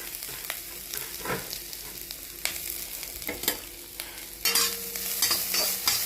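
Grated coconut frying in a hot pan after spluttered mustard seeds, for drumstick-leaf thoran, stirred with scraping strokes over a steady close sizzle that grows louder and brighter toward the end.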